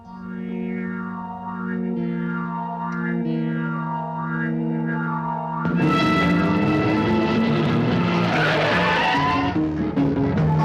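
In a dramatic film climax chase, a car swings around and tears away: after several seconds of steady tonal music, a loud burst of tire skid and roaring engine takes over and holds to the end.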